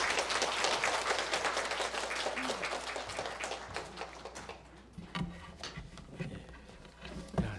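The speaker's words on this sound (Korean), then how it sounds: "우리 목사님 나오실 때 박수로 환영하겠습니다." A church congregation applauds to welcome a pastor to the stage. The applause is dense and steady at first, then thins into scattered claps and fades as the room quiets.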